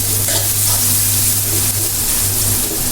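Onions frying in a pan for a pangas fish dish give off a loud, continuous sizzle with a constant hiss and no talking over it.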